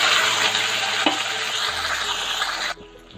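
Ground spice paste sizzles and is stirred in a hot pan while cooking for mixed rice, a loud continuous frying hiss with scraping stirs, dropping suddenly quieter near the end.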